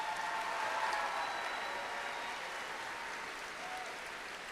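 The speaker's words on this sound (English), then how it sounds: "Let's give the judges a huge round of applause." An arena audience at a FIRST robotics state championship gives a steady, sustained round of applause, moderately distant and even, with no talk over it.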